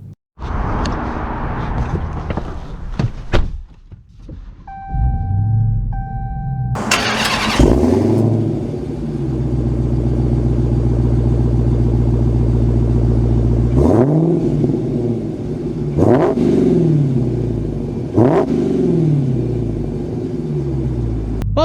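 A Dodge Challenger Hellcat with an 8-speed automatic cranks and fires up, settling into a loud, deep idle, then gets several sharp revs that flare up and fall back, heard close with no talking.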